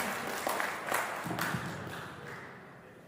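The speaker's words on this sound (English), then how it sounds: "So big applause for Dr." Scattered clapping from a conference audience for a speaker, fairly distant and thin, tapering off within a few seconds.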